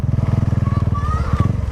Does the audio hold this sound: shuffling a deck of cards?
no